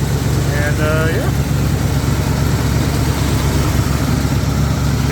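A Squarebody Chevy truck engine idles fast on a cold start, a steady loud rumble that holds without change, with a brief voice speaking over it.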